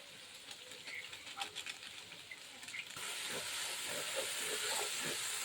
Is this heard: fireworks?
no